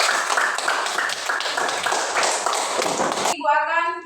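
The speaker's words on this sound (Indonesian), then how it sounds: "tepuk tangan untuk kelompok 3" A classroom of students claps for a student group with dense, lively applause that runs for about three seconds and then cuts off abruptly.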